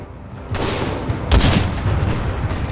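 Gunfire from the video game Titanfall 2: two heavy, booming shots about a second apart, loud and close, each followed by a rumbling tail over a steady low background.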